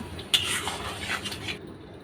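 Spoon stirring mashed taro through spices in a pan, soft scraping and clinks with a sharper knock near the start, close and fairly quiet, no voices.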